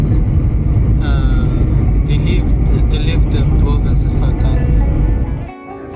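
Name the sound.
airplane taking off in Kabul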